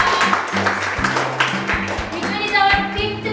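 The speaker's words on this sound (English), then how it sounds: "Clap everyone." Children clapping together in a school classroom, a burst of quick, uneven hand claps close by, with young voices talking and chattering over it.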